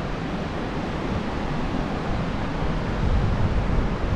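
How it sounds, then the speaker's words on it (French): Steady broadband outdoor noise of rain and gusting wind in a mountain valley on the Mont Blanc trail, constant and fairly loud throughout, with wind rumble buffeting the microphone. "Là il pleut un peu, le vent se lève, mais ça va."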